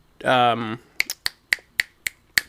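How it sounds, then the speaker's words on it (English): Seven crisp, loud finger snaps ring out close by in an uneven rhythm, right after a brief spoken voice. "Sorry, I had to snap."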